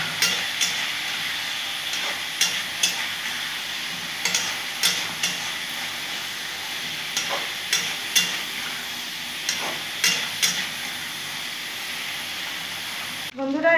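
Cauliflower with turmeric sizzling in a pan, a steady frying hiss with repeated sharp scrapes and clinks as it is stirred at intervals.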